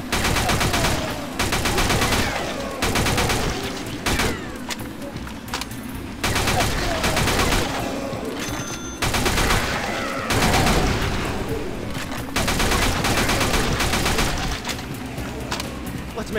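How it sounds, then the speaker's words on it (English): Sustained automatic fire from an MP40 submachine gun in the mobile shooter Dead Trigger 2, loud and nearly continuous, in rapid bursts broken by brief pauses with game effects mixed in. "Mount that machine gun!"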